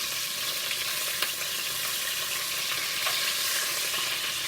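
Pot roast searing in hot oil in a pot, giving a continuous even hiss with a few faint crackles, close and fairly loud, without talk.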